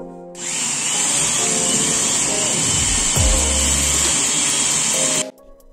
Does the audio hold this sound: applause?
no